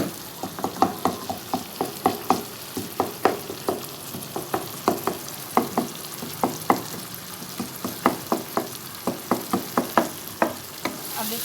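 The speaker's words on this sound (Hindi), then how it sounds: "इनको थोड़ा हल्का सा मैं मैश कर दूँगी।" Tomatoes are mashed in a pan of frying masala for a green chickpea curry, giving a steady run of close, rhythmic squelching taps and thuds over a soft sizzle, about two per second, with no voices.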